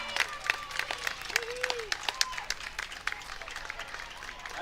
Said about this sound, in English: That's how you clap.